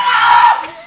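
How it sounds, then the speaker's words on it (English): A person screams loudly and continuously for nearly a second, a strained high-pitched shriek in a playful, unhinged tabletop roleplay session, trailing off at the end. "For today, we scream."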